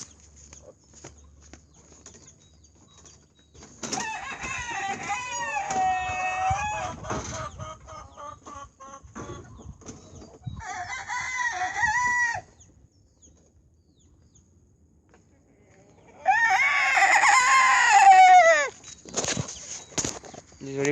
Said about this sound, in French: Désolé pour les chants de coq.